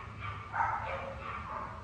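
A dog barks a few times at moderate distance, the yaps short and somewhat muffled over a steady low background hum.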